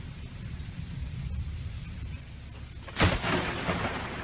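A sudden loud thunderclap from a nearby lightning strike during a storm, bursting in sharply after steady rain-like rumble and then lingering as a rolling, decaying roar.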